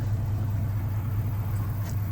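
A 1958 Plymouth four-door, a converted 1957 Dodge, approaches with a steady low engine rumble, fairly close and constant, with no talking.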